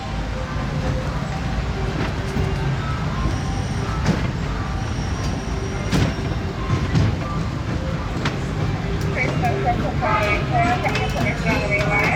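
Disneyland Railroad train rolling along the track on a ride past Tomorrowland: a continuous rumble with wheel clatter, occasional sharp clicks and faint squeals, while a recorded announcer's voice speaks over it.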